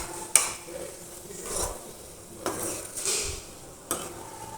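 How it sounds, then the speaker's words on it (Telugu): A spoon stirs spices in a pan for dhaba-style tomato curry, making several distinct scraping strokes at uneven intervals over a faint background sizzle. "బాగా మిక్స్ చేసుకోవాలన్నమాట అన్నీ."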